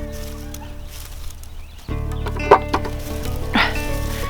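A few soft clucks and short calls from chickens over a steady hum of background noise, fairly close, with no one speaking.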